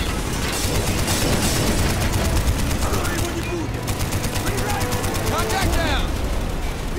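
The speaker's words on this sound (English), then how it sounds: "Now I'm gonna shoot at them." Rapid automatic gunfire from a Black Ops shooter game, sustained bursts close and loud over a dense battle din, with in-game voices talking over it.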